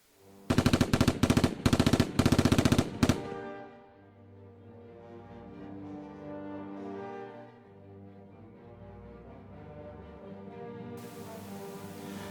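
A loud, rapid burst of machine-gun fire rattles for a few seconds, then stops abruptly, leaving a low, sustained musical drone.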